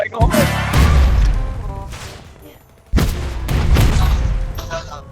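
Gunfire in the GTA-style mobile game Vice Online, two loud bursts of rapid shots with a lull between them, close and dense, with a voice talking in the background.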